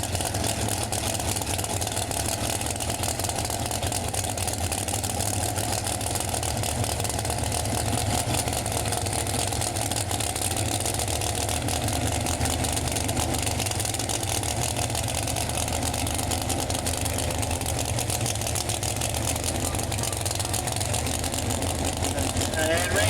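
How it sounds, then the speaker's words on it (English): A Pro Mod drag race car idles on its way to the starting line at a dragway, a steady low rumble holding under ongoing commentary. "Weatherford rolls up to the starting line to the pre-stage speed"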